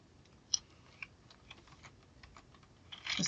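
Typing on a computer keyboard, entering a state name into an online student loan repayment form, with a few sharp key clicks spread across the clip and a louder burst of tapping at the end, fairly quiet and without talk.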